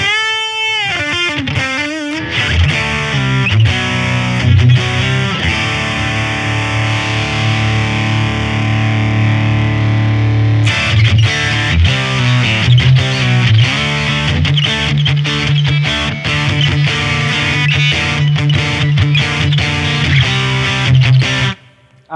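Electric guitar played through the X-Distortion effect on a Boss GX-100 processor, loud saturated distorted chords and sustained notes with rhythmic chugging strums in the second half, ending abruptly, no talk.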